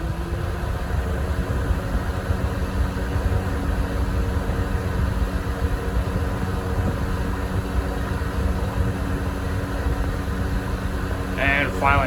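A 2007 Honeywell HY-020 outdoor twin-turbo fan runs on medium speed with a steady, low whooshing drone. A brief voice comes in at the very end.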